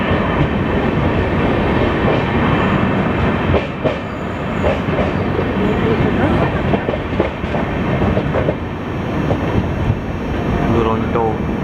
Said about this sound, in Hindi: हावड़ा पुणे दुरंतो एक्सप्रेस भी एक शंट हो रहा है उसका।